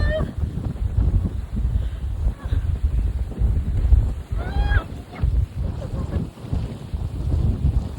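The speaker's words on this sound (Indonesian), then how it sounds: "Sumpah anginnya." Strong wind gusts on the Mount Merbabu hiking trail via Thekelan, a steady loud roar buffeting the microphone, with faint voices underneath.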